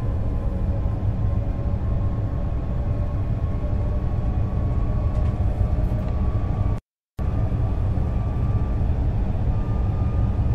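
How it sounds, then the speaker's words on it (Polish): Accelerated passenger train in Train Sim World 2 running steadily, a continuous low rumble of wheels and traction with a faint hum, loud and close, unbroken except for one short cut near the middle; no talking. "Przyspieszony pociąg pasażerski."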